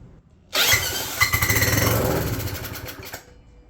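A converted Briggs small engine, tipped sideways, fires up abruptly and runs at part throttle with a loud, rapid, buzzing putter close by, holding steady before easing slightly near the end.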